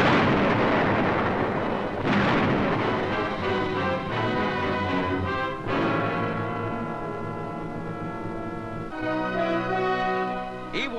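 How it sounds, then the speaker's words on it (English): Heavy high-explosive blasts on Iwo Jima tear through fortress caves, a continuous loud rumbling roar with big booming surges and crackling debris, no voices. "Their fortress caves, saturating the island, are wiped out by high explosive"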